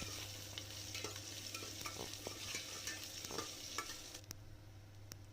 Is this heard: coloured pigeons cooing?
no